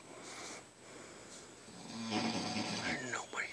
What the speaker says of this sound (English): He can't sleep with you because you snore.